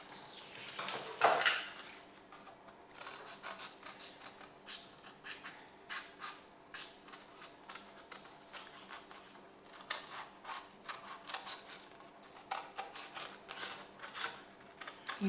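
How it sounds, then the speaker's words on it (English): Scissors snipping around fabric pieces for handmade earrings, close up and quiet, with a louder scrape near the start followed by a steady run of short, crisp cutting clicks. "So I'm just going to cut around that."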